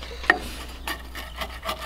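A knife or cutter crunches through crispy pizza crust baked in a Capt'n Cook oven at a tailgate. There is one sharp crack near the start, followed by several softer, rasping crunches. The sound is close and fairly quiet, with no talk.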